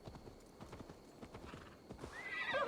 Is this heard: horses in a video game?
yes